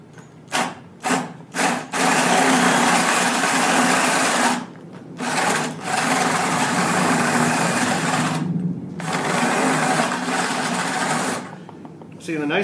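A spade bit bores into wood to roughly the depth of a bolt head while building a four-wheel dolly, giving long, loud, steady whirring bursts with short pauses between them and no talk over it.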